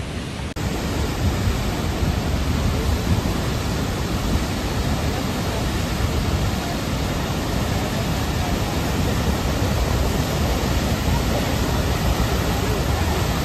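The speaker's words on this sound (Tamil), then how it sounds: "சத்தம் கேட்குதா? அந்த வாட்டர் வந்து அவ்வளோ ஸ்பீடாக போகுது." Rain-swollen waterfall at Falloch in Scotland roars in a loud, steady, broadband rush that fills the whole clip without a break.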